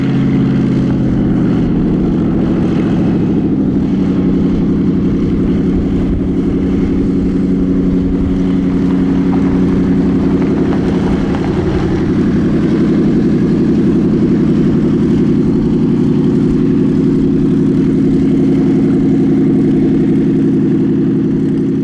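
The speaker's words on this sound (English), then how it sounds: "this one's powered with a Chevy Corvette V8 of 420 horsepower" A loud, steady engine drones up close on a replica Supermarine Spitfire Mk.26b powered by a 420-horsepower Chevy Corvette V8, a deep throaty roar holding constant with a slight rise in pitch early on, at Warbirds Over Wanaka.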